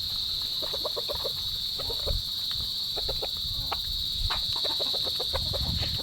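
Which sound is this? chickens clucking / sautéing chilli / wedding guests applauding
chickens clucking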